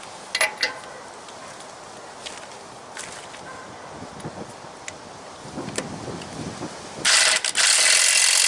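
An electric impact wrench loosening a bolt: faint mechanical clicking and rustling, then a loud, sustained hammering burst near the end, close to the mic with no talk.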